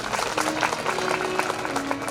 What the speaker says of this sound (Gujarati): તમે બધા તમારા માટે તાળીઓના ગગડાટથી વધાવો